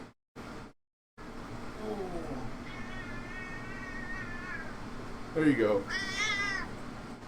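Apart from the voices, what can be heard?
cat meowing angrily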